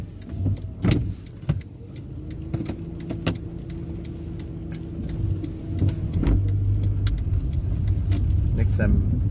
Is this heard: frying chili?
no